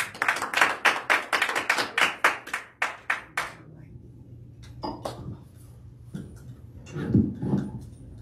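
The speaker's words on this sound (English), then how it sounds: "Give our hand clap." A church congregation claps in a quick, rhythmic run of sharp hand claps for about four seconds, then trails off into scattered quieter taps and a soft murmur.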